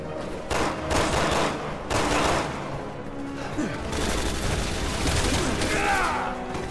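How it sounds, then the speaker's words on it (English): Enemy gunfire in Resident Evil 6: repeated bursts of shots, loud and close, clustered in volleys with short gaps, over game noise and a shouting player. "Stop firing at me"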